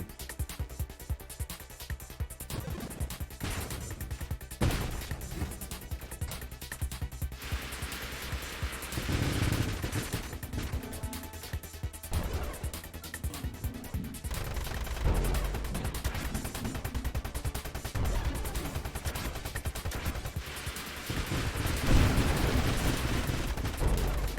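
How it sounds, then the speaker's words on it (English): Ship weapons firing in a radial spread as mines detonate in the space shooter Nova Drift, a dense nonstop barrage of rapid blasts and booms over a loud rumbling game soundtrack, with no talking. "On detonation, mines fire your weapon in a radial spread."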